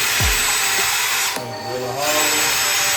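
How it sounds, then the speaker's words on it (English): Power drill boring a hole into a bathroom wall, a loud steady whine that drops in pitch under load midway and then rises again, close by with no talking. "Drill a hole."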